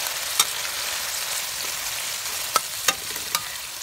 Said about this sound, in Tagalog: Igisa muna natin ang corned beef natin